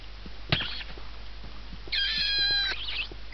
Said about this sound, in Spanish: No, esto es un gato. Hola, gato.